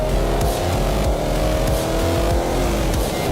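A 2022 Subaru WRX with all-wheel drive accelerating hard out of a corner, its engine loud and close with rising revs and a continuous roar throughout, no talk.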